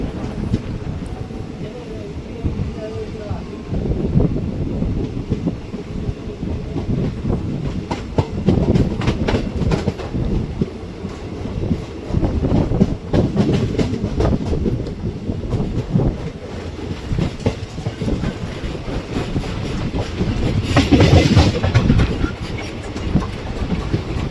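The Guruvayur Express runs on from Nanguneri station with a continuous rumble, wind buffeting and rhythmic clatter of wagons on the track, heard from on board.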